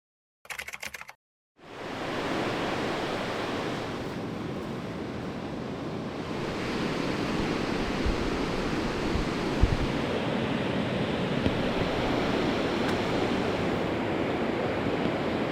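Waves breaking on a beach: after a brief burst of noise and a short silence, a steady, dense wash of surf and wind roar runs continuously and fairly loudly.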